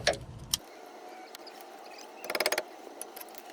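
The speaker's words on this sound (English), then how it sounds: "you're going to use a ratchet and socket with whatever socket fits the bolt and just pop it free" A ratchet and socket loosening a brake caliper bolt makes a quick burst of close, quiet ratcheting clicks near the end, with scattered faint ticks and clinks before and after.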